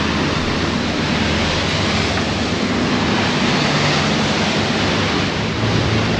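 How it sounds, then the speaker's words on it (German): Choppy sea on the Alte Maas near Rotterdam rushes and splashes against a moving pleasure boat, a loud, steady broadband wash with wind buffeting the microphone throughout and no talking. "Auf der Alte Mars ist es hier schon ganz schön wellig."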